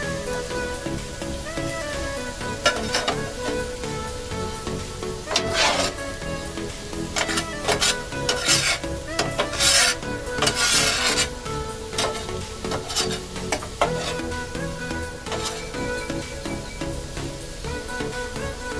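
Bacon street corn being stirred and scraped with a spatula on a hot Blackstone griddle with minced garlic, a continuous gritty rasping and sizzle broken by sharper metal scrapes, close and fairly loud.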